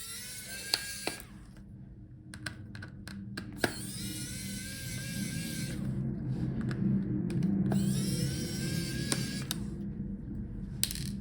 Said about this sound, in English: now let's take out all the screws